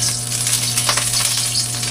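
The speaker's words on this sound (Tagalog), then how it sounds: "Prito muna tayo ng itlog." Loud, continuous sizzling of an egg frying in a hot pan, a steady crackling hiss with a low hum underneath.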